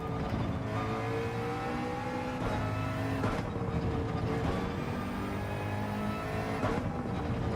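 Race car engine in Gran Turismo 7, a steady loud drone with rising and falling revs and repeated gear-change dips, continuous and close with no talking.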